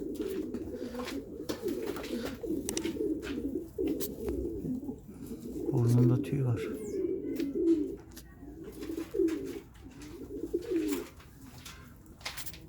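Pigeons coo softly and repeatedly at close range, low throaty murmurs that continue throughout, with brief conversation in Turkish over them.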